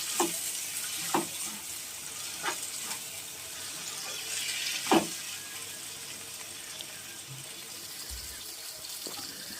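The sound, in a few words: onions and tomatoes frying and being stirred in pan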